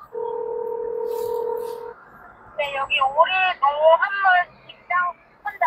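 Phone dialing tones as a taxi driver calls a customer: a steady two-tone dial tone for about two seconds, then a rapid run of distinct keypad beeps, clear and close inside the car.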